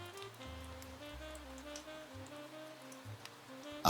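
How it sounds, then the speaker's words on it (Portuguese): Steady rain falls at night while a clock ticks faintly, the two blending into a continuous, quiet ambient layer alongside soft low tonal drones. "O som do relógio, da chuva e do ambiente se misturam, criando uma camada única, contínua."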